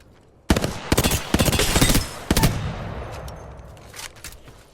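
A Hemlock assault rifle fires in Apex Legends in several loud, close bursts of rapid shots with short pauses between them, then falls to quieter scattered sounds.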